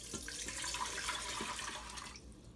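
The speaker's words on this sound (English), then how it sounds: "I've got pre-measured 3 cups of water here. So we're going to go pour that in." Three cups of pre-measured water pour steadily into an Instant Pot, a continuous close splashing stream lasting about two seconds before it cuts off, with no talking.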